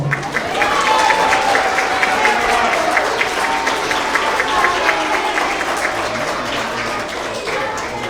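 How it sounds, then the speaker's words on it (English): Applause at a kindergarten to second grade school award assembly for young readers, a full round of clapping that swells early and gradually thins, with faint voices mixed into the crowd. "Let's have another round of applause for all of these amazing readers."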